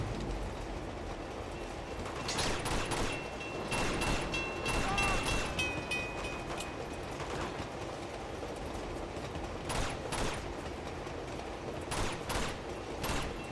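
Gunfire in the video game Uncharted 2: Among Thieves, a run of sharp broadband bursts crackling in loose clusters over a dense game ambience, fairly close and steady, with no one talking.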